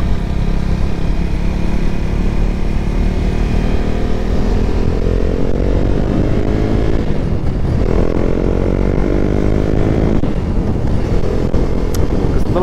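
Husqvarna Svartpilen motorcycle engine heard from the rider's position on a warm, sunny ride, a loud continuous drone with rising and falling pitch as it revs through the gears, mixed with steady wind rush.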